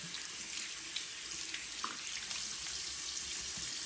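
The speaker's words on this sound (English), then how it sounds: "I'm rinsing in the sink first" Tap water running steadily into a sink while a varnish brush is rinsed under it, a soft continuous hiss and splash with occasional faint clinks, no talking.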